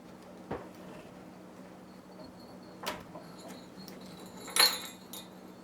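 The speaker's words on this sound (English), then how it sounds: "take these jingle bells and feed the zip tie through here" Small jingle bells jangle in a few brief, scattered bursts as they are threaded onto a zip tie for a country Christmas wreath, with quiet stretches between.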